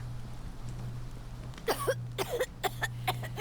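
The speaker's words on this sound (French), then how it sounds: "Oh non, arrête de tousser." A female character coughs several times in quick succession in the video game Resident Evil 4, short rough bursts heard over a low steady hum of game ambience.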